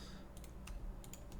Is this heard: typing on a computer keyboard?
yes